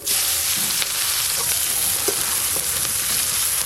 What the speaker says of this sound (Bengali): পেঁয়াজ কুচিগুলো প্রথমে একটু ভালো করে ভেজে নেব